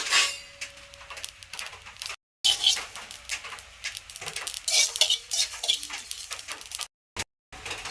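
Dry red chilies and garlic are dry-roasted in a pan without oil, with irregular metallic scrapes and clinks of stirring against the pan. The sound is fairly quiet and comes in bursts with brief silent gaps.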